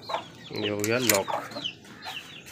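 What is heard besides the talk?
chickens clucking as the coop is opened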